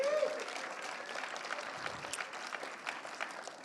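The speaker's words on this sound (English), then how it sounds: "Let's give them a round of applause, please." Audience applause at a Black History Month student showcase, steady dense clapping from a sizable crowd that holds across the whole stretch, with faint voices mixed in.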